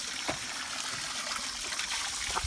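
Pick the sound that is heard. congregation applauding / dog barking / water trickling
water trickling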